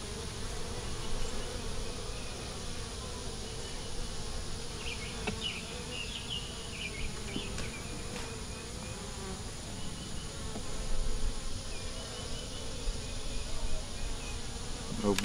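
A dense, steady hum of many honeybees buzzing around a hive frame built on fishing-line foundation, close and continuous with no voices.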